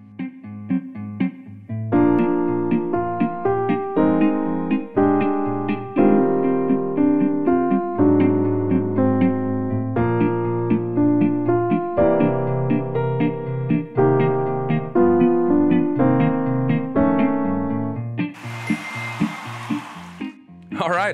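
Piano plays the A section of a jazz standard, an intermediate arrangement with steady left-hand chords under a bright right-hand melody, close and loud throughout, ending in a brief noisy burst.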